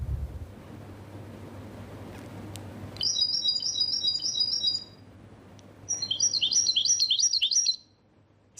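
A European goldfinch sings two bright, rapid twittering phrases, each lasting a couple of seconds with a short pause between, clear and fairly close over a low wind rumble.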